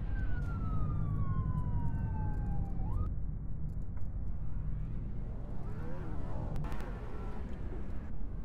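A police car siren in an emergency response simulation game wails with a falling tone, then shifts into a rapid yelp pattern over steady low engine rumble, loud and close.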